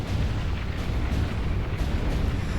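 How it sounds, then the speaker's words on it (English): A battleship shells land installations and naval units in the Supreme Commander 2 UEF campaign, heard as a dense, continuous roar of heavy booms and rumbling blasts merging into one loud wash of noise. "use that battleship to shell land installations or other naval units"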